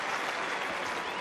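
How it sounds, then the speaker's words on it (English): Crowd applause at a 2009 Roland Garros fourth-round tennis match between Federer and Haas after a long rally, a dense, steady clapping wash filling the whole moment with no voices on top. "Haas, I think, asking for some applause there, deserving of it too."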